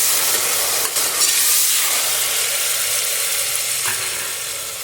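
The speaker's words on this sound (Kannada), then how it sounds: "ಅದನ್ನು ಹಾಕಿ ಸ್ವಲ್ಪ ಫ್ರೈ ಮಾಡಬೇಕು" Pulao powder frying in a pan for kushka rice, a steady broadband sizzle with occasional stirring scrapes, close and loud throughout and slowly easing toward the end, no voices.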